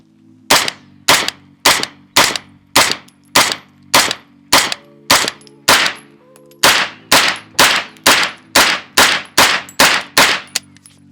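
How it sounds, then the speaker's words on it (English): A pistol fires about twenty sharp, loud shots in an evenly paced string, first with 147 grain and then with 100 grain ammunition, with a brief gap midway and each report ringing out. "So we've got 9 or 10 rounds of 147, then 10 rounds of 100 grain. So we're gonna shoot through them."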